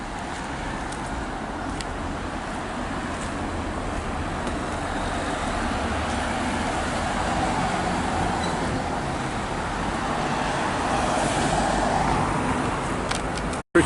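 Steady wash of road traffic through a small built-up town, a continuous mid-level hum of passing cars at moderate distance with no clear single vehicle standing out, cutting off abruptly at the end.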